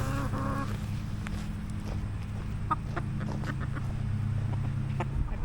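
Thirteen-week-old chickens cluck and murmur in a steady low chatter. Sharper, brief calls and pecking clicks are scattered through it, heard nearby over a constant background hum.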